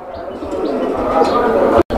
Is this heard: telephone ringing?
no